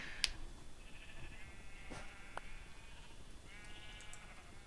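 Video game sheep bleating in a pit, with several soft, separate bleats spread across a quiet background, one sharper sound near the start.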